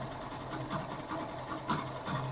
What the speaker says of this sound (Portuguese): nós vamos ligar a moto novamente